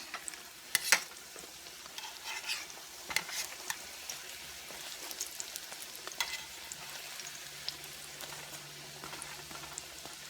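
Jamaican fried dumplings sizzling in a pan of hot oil on medium heat, a steady close crackle and spatter with occasional sharper pops and stirring scrapes, no voices.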